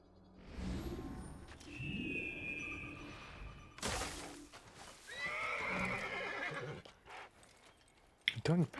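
A horse in the video game Assassin's Creed neighs and whinnies loudly several times, with clip-clopping hooves and in-game effects, and a person talks over part of it.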